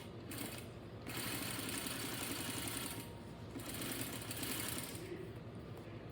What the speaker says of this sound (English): I'm gonna lift up my presser foot, pivot, and then I'm gonna follow, put my presser foot back down, and pivot as I go.